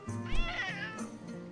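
A cartoonish cat meows in the video game Metal Gear Solid: Peace Walker, one drawn-out, wavering meow followed by a shorter one, loud and clear over soft game music.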